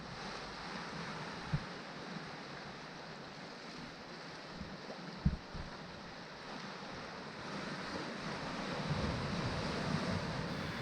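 Ocean waves surge against rock arches on the Newfoundland coast, a steady broad wash of surf with wind rumbling across the microphone and a few low thumps, heard from some distance.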